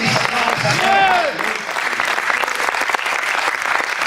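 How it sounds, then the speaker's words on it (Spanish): Applause from a church congregation during a Christian sermon in Annapolis, Maryland, a loud sustained wash of clapping that fills the room, with a brief voice rising over it near the start. "Denle un aplauso al Rey de Reyes y Señor de Señores"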